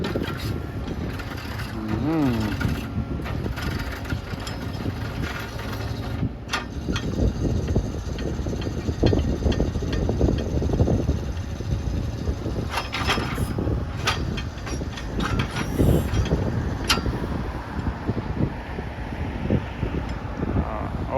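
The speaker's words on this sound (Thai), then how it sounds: "จะต้องยอมรับว่าเสียงเครื่องยนต์เขานิ่มนวลมากนะครับ" A Kubota U55 mini excavator engine runs smoothly nearby, with creaking and clanking of moving metal parts over the steady rumble.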